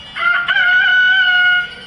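A rooster crows once, loud and close, with a rising opening note stretching into a long sustained call that fades at the end, standing alone without any talking.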